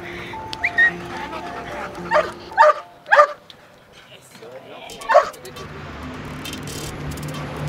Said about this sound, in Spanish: Estos perros son entrenados para búsqueda y rescate en estructuras colapsadas o en campo abierto